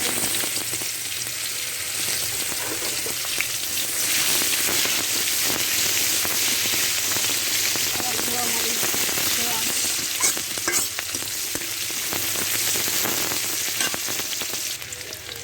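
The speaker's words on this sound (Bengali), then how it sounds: "কড়াইতে তেল দিলাম, দেখুন তেলটা গরম হয়ে গেছে, এবার পেঁয়াজ দিতে হবে।" Onion fries in hot oil in a wok, giving a steady, dense sizzle with occasional stirring scrapes and pops running continuously at moderate loudness.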